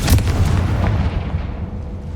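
A Confringo blasting spell cast in Hogwarts Legacy, one loud booming blast with a sharp onset that rumbles and fades over about two seconds, heard alone.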